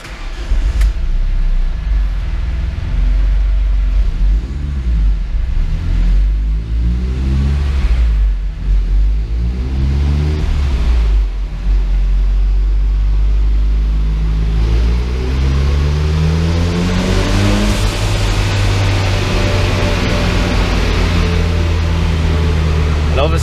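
A turbocharged van engine revs on a chassis dyno, a loud sustained roar with rising and falling harmonic sweeps as it climbs through the gears, building to a strong high-rev pull near the end, with some talk mixed in.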